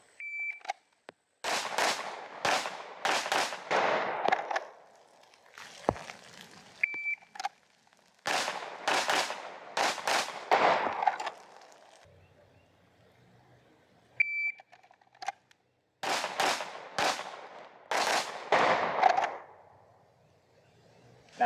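Pistol practice on three targets at about 10 yards, with a short electronic timer beep opening each string, then sharp, loud, close gunshots in quick pairs and singles, repeated several times with quiet gaps between.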